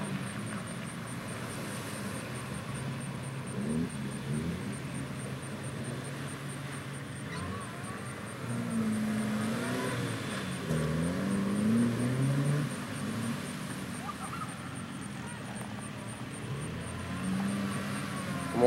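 Jeeps crawl through an off-road obstacle, their engines droning and revving in low, shifting swells at a moderate distance, with indistinct voices in the background.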